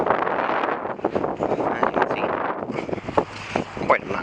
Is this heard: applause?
no